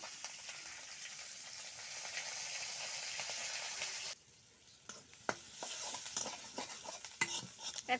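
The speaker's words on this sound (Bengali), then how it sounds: "মাছগুলো হালকা ভেজে নেব।" Fish pieces frying lightly in hot oil in a pan, a steady dense sizzle that drops off abruptly midway, then returns more quietly with sharp scrapes and clinks of a utensil against the pan.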